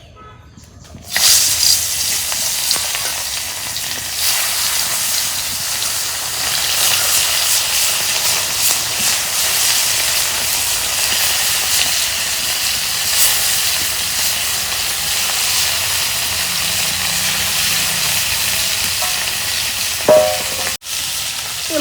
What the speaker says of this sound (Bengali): আজকে আমি মাছ ভেজে নেব